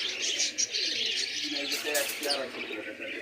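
Pigeons, including Chinese teddy pigeons, coo and chirp in a busy mix at a pigeon market in Khulna, with birdcalls layered over faint background chatter and hiss.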